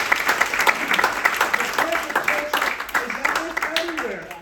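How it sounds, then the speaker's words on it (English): Comedy club audience at a stand-up show giving a round of applause, busy clapping mixed with crowd noise and voices, a few louder bursts standing out. "Give me a round of applause for yourself."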